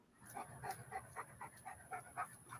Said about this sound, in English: that's the dog breathing